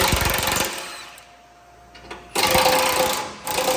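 A power tool rattles in two loud, close bursts as it removes 13 millimeter bolts from the skid plate of a Ford F150, with a quieter pause between them.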